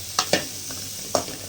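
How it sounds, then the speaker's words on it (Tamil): Onions sautéing in a pan with a few sharp scrapes of a spoon stirring them over a faint sizzle, close and brief. "நம்ம ஒரு பெரிய வெங்காயம் ஒரு 2 வெங்காயம் போட்டிருக்கிறோம் பாருங்கள். போட்டு நல்லா வணக்கிட்டுருக்கோம்."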